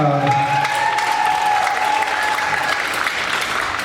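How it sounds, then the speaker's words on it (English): A crowd at a luau applauds steadily in a dense, continuous wash of clapping, with a faint tonal hum under it and some cheering mixed in. "How about a round of applause for Koryama?"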